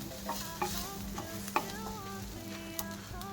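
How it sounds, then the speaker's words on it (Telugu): Carrot fry being stirred in a pan, with a soft steady sizzle and repeated light scrapes and taps of the spoon against the pan, close and fairly quiet, no voices. "అడుగంటకుండా ఇలా 2-3 నిమిషాలు కలుపుతూనే ఉండాలి."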